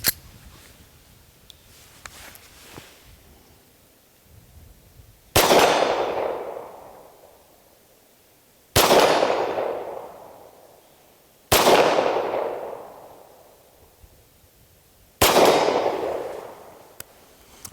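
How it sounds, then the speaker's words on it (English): Four sharp, loud gunshots from a SAR USA P8 pistol fired at a 50-yard outdoor range, each cracking close by and trailing off, spaced a few seconds apart. "So we're gonna go ahead and put a couple shots on the 50."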